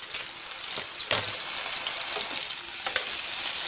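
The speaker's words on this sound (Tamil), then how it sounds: "இது கொஞ்சம் நல்லா ஃப்ரை ஆகட்டும்." Brinjal fries in a pan for a Kerala-style vindaloo with a steady, close sizzle and crackle, broken by a few brief stirring clinks.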